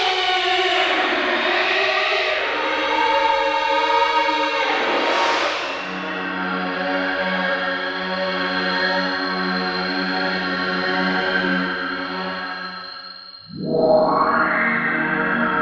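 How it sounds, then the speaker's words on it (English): A Nord Wave 2 synthesizer plays a sustained, harmonically rich tone drenched in reverb with chorus-like shimmer and a swept, siren-like pitch rise, then a rising glide near the end, with long echoing tails. "Especially when you bring in that reverb again."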